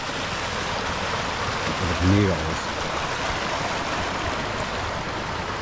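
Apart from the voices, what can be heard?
stream flowing with snowmelt in Finland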